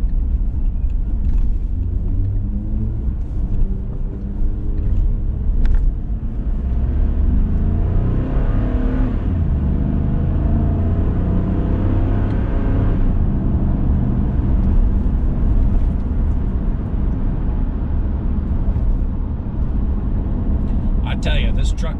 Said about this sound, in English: aggressive, throaty rumble to it, particularly when you come onto it